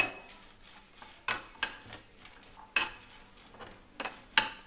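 Chillies and onions being dry-roasted and stirred in a pan for a Kerala prawn and coconut chammanthi, with intermittent sharp scraping and clinking strikes over a faint low sizzle, fairly close.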